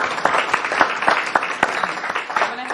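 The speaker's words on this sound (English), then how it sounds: "I think that deserves a round of applause." Applause at a McLeod County board meeting honoring a county recorder retiring after 37 years, a short burst of scattered clapping from a small room audience with distinct individual claps.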